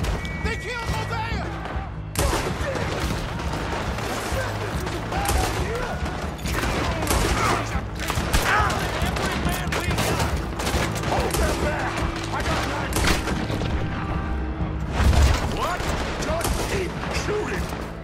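Dense gunfire from a bank shootout in Red Dead Redemption 2, continuous volleys of shots and crashes throughout, loud and close, with shouting voices mixed in.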